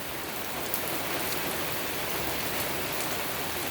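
Steady rain falling, a dense, even hiss of drops that holds at one level throughout, with no voices or other sounds.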